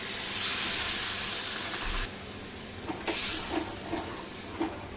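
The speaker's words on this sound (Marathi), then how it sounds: "एक वाटी पाणी टाकून घ्यायचंय" Water poured into a hot pan of spiced groundnut, sesame and coriander masala gravy for okra and potato gives a loud steaming hiss that cuts off abruptly, followed by softer bubbling sizzle and spatter.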